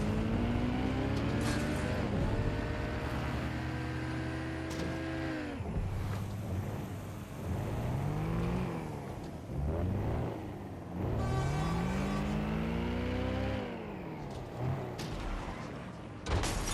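A car engine in the Watch Dogs Legion video game hums and shifts pitch steadily as the vehicle drives itself on auto drive, with rising and falling revs heard clearly throughout.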